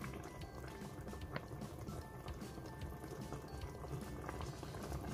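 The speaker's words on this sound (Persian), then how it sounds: "خب ببینید الان به جوش اومد." Yatimcheh, an eggplant and tomato stew, boiling in a pot on a gas stove, with steady bubbling and popping close by that runs the whole time without a break.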